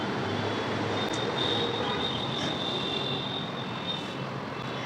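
Delhi metro train passing: a steady, broad rumbling roar with a faint high whine, sustained and loud throughout without speech.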